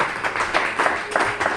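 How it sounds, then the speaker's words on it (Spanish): A church congregation claps in quick, uneven bursts during a Spanish-language worship service, loud and close, with a voice faintly mixed in. "Dele palmas al Señor"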